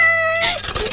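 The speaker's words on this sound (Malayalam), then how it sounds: "അയ്യോ, പുള്ളില് പൂച്ച." A cat gives one short, loud, close meow, drawn out and tonal, then breaks into rougher, noisy sound in the second half.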